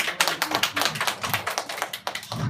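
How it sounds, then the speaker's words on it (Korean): An audience at a church Bible lecture breaks into brief applause, a dense, even patter of many hands clapping together for about two seconds, with no talk over it. "박수 한번 쳐줍시다"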